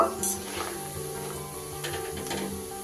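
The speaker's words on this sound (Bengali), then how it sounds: "এটা কিন্তু কন্টিনিউ নেড়ে নেড়ে আমি এটাকে ভেজে নেব।" Kucho goja, small sweet dough pieces, frying in hot oil while being stirred continuously: a steady close sizzle with faint clinks of a utensil against the pan, no voices.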